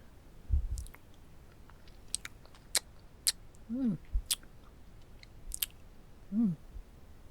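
Close-up ASMR chewing of a sticky, strawberry-flavored jello brain: intermittent wet bites and squelchy mouth sounds with soft vocal hums between them, no clear speech.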